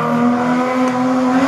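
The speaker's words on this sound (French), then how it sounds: "superbe passage de la part de Hugo Le Breton, le pilote de la BMW qui nous arrive" A BMW race car at the 2019 Quettreville hill climb in France passes close by with a loud, steady engine drone and a strong sustained tone throughout.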